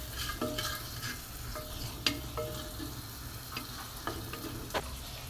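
Red onion and salt stirred in a pan produce a soft, steady sizzle broken by scattered spoon scrapes and light clicks against the metal, close and quiet with no talking.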